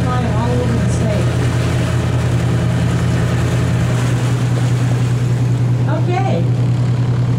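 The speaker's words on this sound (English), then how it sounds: "kind of see how short a distance he does his takeoff in" A small plane's engine drones loud and steady as it takes off from a river sandbar, with a voice briefly speaking over the noise.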